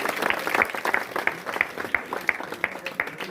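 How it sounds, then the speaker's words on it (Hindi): Crowd applause at a village welcome for a school's yoga champions and medal winners, fairly faint, with many hands and a rhythmic clap standing out regularly above the rest. "एक बार जोरदार तालियों से विद्यालय परिवार का हम स्वागत करते"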